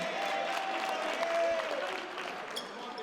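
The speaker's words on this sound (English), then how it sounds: "Malcolm Smith telling his entire team to cheer there" Crowd noise and scattered shouts from a basketball team's bench during a tense high school game, a steady loud wash of cheering with a sharper burst near the end and commentary underneath.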